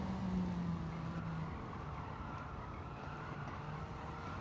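A Gran Turismo 7 RCR Honda Civic races in third gear around Tsukuba, its engine a fairly faint, steady drone.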